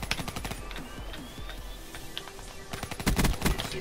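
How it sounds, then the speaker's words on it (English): A light machine gun fires in long rapid bursts during a close online video game match, the loud rattling volleys most intense near the end, with no one speaking. "Oh my god, he has an LMG, bro."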